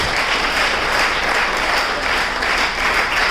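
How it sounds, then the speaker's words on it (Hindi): Loud, sustained applause from an audience at an Enagic business training event in Gurugram, India, a thick, continuous wash of many hands clapping at once, close and even for the whole stretch. "मिस्टर हेमंत काकोरिया जी को स्वागत कीजिए जोरदार तालियों से।"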